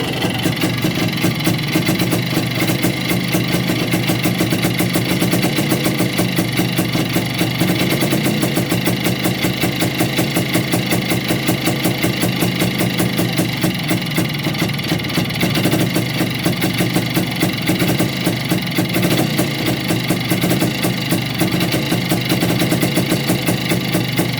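A Muravei motor scooter engine runs steadily and close by. It makes a loud, fast, even chugging rhythm that stays unchanged throughout, with no speech.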